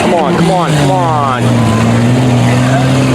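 Tough trucks race at a county fair, their engines revving and droning loudly close by with rising and falling pitch sweeps, while an announcer talks over the roar.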